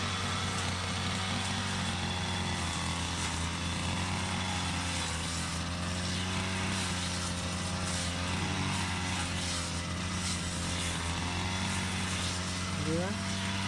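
A grass cutter's small engine runs steadily in a vegetable field during an eggplant harvest, a constant loud droning hum with harmonic tones throughout, while people talk nearby.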